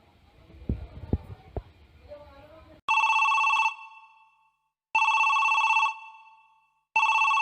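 A telephone rings loudly in repeated long electronic trills with short gaps, after a moment of faint thumps and background sounds.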